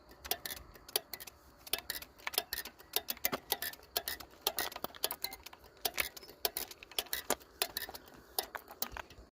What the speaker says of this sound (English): There was a zip tie touching my spokes.